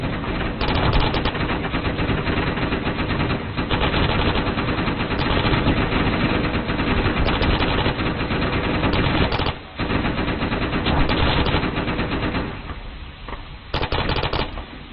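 Rifle fire during platoon training at a 900-meter range, loud rapid overlapping shots in dense continuous bursts with brief pauses, close to the recording point.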